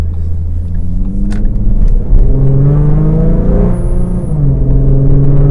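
A tuned 2014 Ford Mustang V6 on full coilovers accelerates from light throttle, its engine note climbing steadily in pitch as it pulls through the gears. The sound is loud and close, with no one speaking over it.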